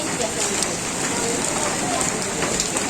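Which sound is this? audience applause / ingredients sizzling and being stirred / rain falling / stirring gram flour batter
rain falling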